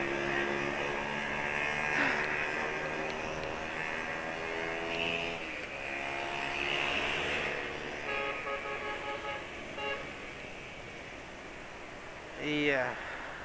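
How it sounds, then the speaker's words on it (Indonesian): A steady, noisy motorcycle engine drones throughout, with a brief horn-like toot near the end, while someone talks. "Itu tadi motor suaranya berisik"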